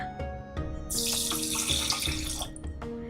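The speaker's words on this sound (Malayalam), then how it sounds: "ഇനി ഞാൻ ഇതിലേക്ക് ചേർക്കാൻ പോകുന്നത് വാട്ടർ ആണ്." About 500 ml of water pours steadily into a metal pressure cooker for a couple of seconds, with a few clanks and knocks before and after.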